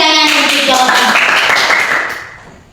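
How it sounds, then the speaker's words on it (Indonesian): Classroom applause for a student's answer, loud and close, with a dense wash of clapping that holds steady and then fades out toward the end, mixed with a voice sounding over the claps. "Tepuk tangan untuk jawaban"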